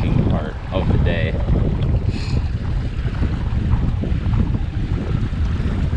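A fishing boat motors around a lake while looking for walleye, giving a steady, loud engine drone with heavy wind buffeting the microphone throughout.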